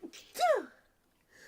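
A single sharp sneeze, with a short breathy intake and then the explosive burst, comes through close and clear before fading into near silence, with a faint sound returning at the very end.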